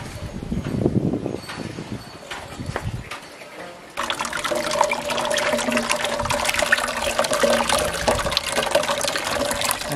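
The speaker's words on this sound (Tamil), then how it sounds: "புளி வடிகட்டுறோம்" Tamarind water is strained for a temple feast meal, giving a steady pouring, splashing flow of liquid. Softer handling noises come first, then a louder continuous stream of water runs to the end.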